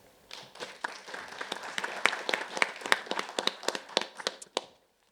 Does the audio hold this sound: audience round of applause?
yes